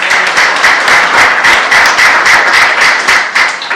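Church congregation clapping during a youth sermon, a loud, close, continuous patter of many hands with a slightly rhythmic pulse, lasting the whole span without talk.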